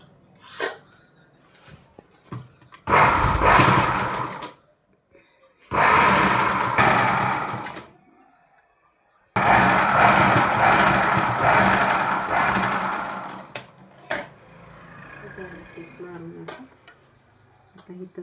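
A sewing machine stitches fabric for a baby cap. It runs in three loud, steady bursts separated by short pauses, ending with quieter handling noises.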